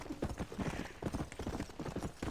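Undead horse galloping in Red Dead Redemption: Undead Nightmare, brisk repeated clip-clop hoofbeats filling the whole stretch, fairly close and even in level, alone without speech.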